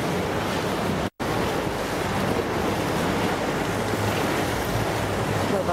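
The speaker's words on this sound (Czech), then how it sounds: "Ty voda, to štouká." Sea waves splash and surge along a Thailand coast, a loud continuous wash of surf with wind buffeting the microphone and one brief dropout near the start.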